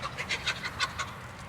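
Chickens and roosters in spring call out in a run of loud, rhythmic honking clucks, about eight in quick succession, close by with no talking.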